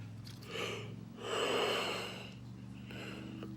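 A person yawns, a drawn-out breathy inhale swelling to a peak and fading with a soft exhale, close and alone without speech.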